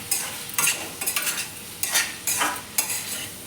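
A prawn curry with chili powder is stirred in a sizzling pan, with repeated scraping strokes of a spoon against the metal in an uneven rhythm over a low background fry, close up with no talk.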